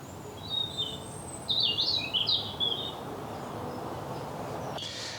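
Bird song heard outdoors in the UK: a few bright, high chirping phrases, loudest near the start, over a soft steady background hum.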